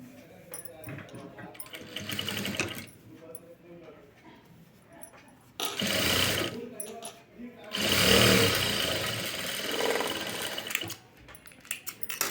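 A sewing machine top-stitches fabric for the front part of a katori blouse, running in several short bursts and one longer stretch, moderately loud and close, with quiet pauses between runs.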